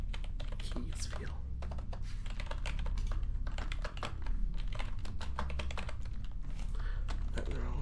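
Rapid, close clattering keystrokes come from an old lower-end computer keyboard from around 2013, dense and uneven in rhythm with a brief pause midway, steady throughout.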